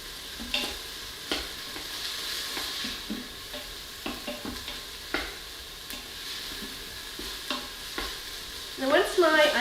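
Onions sautéing with a pinch of salt in a warming Instant Pot, a steady soft sizzle broken by repeated scrapes and stirs of a spoon, close and moderately loud, with no talk.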